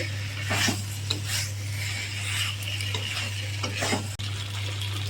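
Young jackfruit is sautéed in a pan with a steady sizzle and hiss, while a spatula scrapes and stirs in repeated strokes, close and clear, with no voices.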